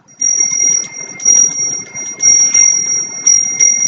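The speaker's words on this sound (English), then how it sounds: "Sometimes if I ring the bell" A bell rung repeatedly in a quiet room, loud bright metallic ringing in several bursts with sustained shimmering tones between strikes.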